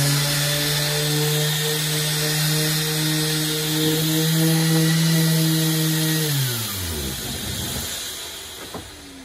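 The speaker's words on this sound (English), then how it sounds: "So we're gonna go and we're gonna sand this" A power sander works across a figured maple slab with a faux live edge, giving a loud, steady whine that holds for several seconds before winding down near the end.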